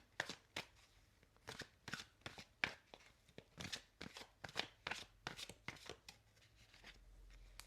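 Cards handled one by one from a deck, a series of quiet, crisp slaps and flicks in an uneven rhythm, close and soft in a calm, quiet room.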